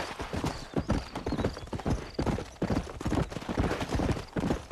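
Horse hooves clip-clop at a brisk, steady trot on hard ground in the Red Dead Redemption video game, loud and close, with a faint whinny underneath.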